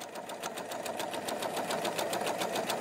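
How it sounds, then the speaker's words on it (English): A sewing machine running steadily, its rapid needle strokes forming an even, continuous mechanical chatter at a constant moderate level throughout, with no talk. "he also sent the sound of a sewing machine"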